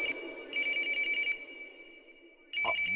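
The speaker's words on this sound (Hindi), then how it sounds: "मॉम, बॉस का फोन है।" A telephone rings indoors in two bursts of electronic trilling bells, the first longer, separated by a quiet gap with a faint low background murmur.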